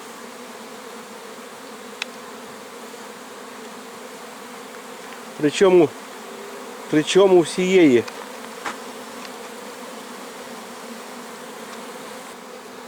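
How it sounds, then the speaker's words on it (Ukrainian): A steady insect drone of swarming honey bees runs throughout, with a person speaking briefly in the middle over the hum. "Схоже на масове, на масове раїння бджоли"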